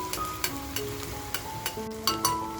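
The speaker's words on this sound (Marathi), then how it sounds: "कांदा जो कापून घेतलाय तो कांदा टाकते" Chopped onion dropped into smoking-hot oil for a spicy mandeli fish curry, sizzling and crackling steadily with a few sharp spoon taps on the pan, fairly close and without talk.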